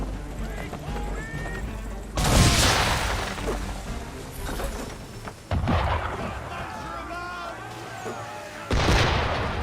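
Cannon fire from an enemy ship in Assassin's Creed 3, three heavy booming blasts spaced a few seconds apart with rumbling decay, amid ambient sea and ship sounds and a voice speaking.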